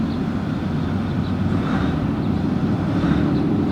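A 2020 Ram 1500 pickup engine in normal throttle mode drones with a steady, loud low rumble that stays even and continuous throughout, without any clear rise in revs.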